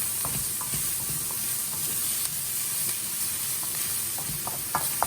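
Shrimp and vegetable fried rice with garlic frying in oil in a wok, a constant close sizzle with light scraping and stirring clicks scattered through.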